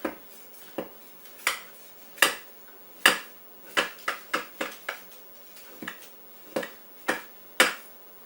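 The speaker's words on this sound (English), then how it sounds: "And then I run a knife along the inside here." A knife scrapes around the inside of a metal cake pan, producing a series of sharp, close scraping clicks at an uneven rhythm, about a dozen distinct strokes, with no talking.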